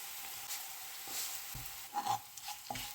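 Sliced shallots and curry leaves frying in oil for a Kerala-style red spinach and egg thoran, with a soft, steady sizzle and a few light stirring scrapes, quiet and brief.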